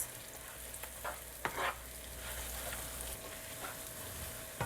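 Stirring sesame seeds in a pan for date biscuit rolls, soft sizzling with repeated scraping strokes of a utensil, close and fairly quiet, no talking.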